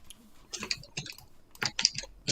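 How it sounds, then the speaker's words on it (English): Typing on a computer keyboard indoors, irregular bursts of close, crisp key clicks with short pauses between clusters. "We got typing going on."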